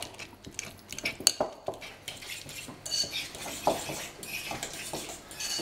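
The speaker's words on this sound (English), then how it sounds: "squash it with the fork." A fork's back presses and squashes a chunky food mixture for huevos rancheros, giving soft repeated clinks and scrapes of metal against a dish, close and moderately loud, with no talking.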